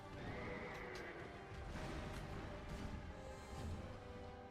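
Horse neighing in the Dark Souls 2 video game, a loud sustained whinny with hoof clip-clops over a steady dense game background, no voices.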